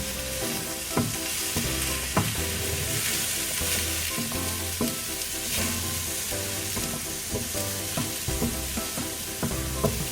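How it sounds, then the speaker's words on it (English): Farro risotto is stirred steadily in a pan on the stove, with a continuous soft sizzle and the repeated scrape and knock of the spoon recurring every second or so, close and moderately loud, with no voices. "The thing with risotto, you want to constantly stir it"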